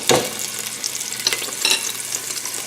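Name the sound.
garlic and green curry frying in a pan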